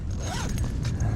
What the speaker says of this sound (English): Let's zip up.